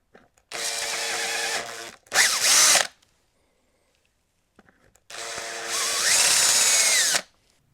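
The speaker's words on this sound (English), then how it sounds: "We've drilled out the original hole" A power drill bores out a broken thread hole on a Ducati 999s, running in two loud, steady bursts with a short grinding stretch and a quiet gap between them.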